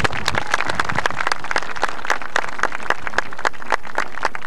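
Dense, steady applause from an audience at a 1993 spring soccer awards gathering, with many overlapping hand claps crackling continuously and fairly close for several seconds, with no voices over it.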